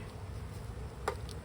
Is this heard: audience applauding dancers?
no